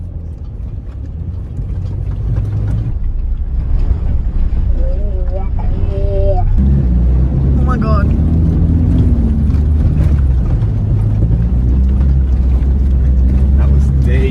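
A 4WD towing an off-road caravan ploughs through a deep water crossing on the way to El Questro Gorge in the Australian outback, with a loud, steady rush of engine and churning water under excited voices.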